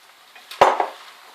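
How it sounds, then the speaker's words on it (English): A single quick scrape of a utensil mixing plain flour into a lasagne base, one short, fairly close stroke that fades fast, heard alone in a quiet kitchen. "Mix that up as well."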